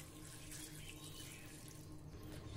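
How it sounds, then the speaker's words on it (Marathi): Water pours steadily from a tap or vessel into a pan of wheat kurdai for a traditional Maharashtrian curry. The splashing is soft and continuous for a few seconds, and no one speaks. "आता यामध्ये पाणी घालूया।"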